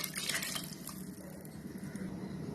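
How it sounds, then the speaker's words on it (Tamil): Water poured into a pot of cooked moong dal sambar, a soft steady liquid trickle with faint dripping, quiet and continuous with no talking. "கூட கொஞ்சம் தண்ணியும் சேர்த்திக்கலாம்."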